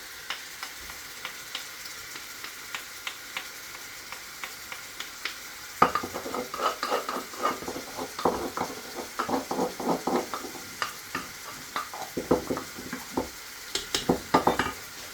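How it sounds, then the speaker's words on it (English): Beef mince fries in a pan for a large batch of pasta bolognese, with a mashed scotch bonnet pepper added. It hisses softly at first, then sizzles louder as repeated stirring brings scraping clicks and clatter. "you need to fry this until the mince is all browned"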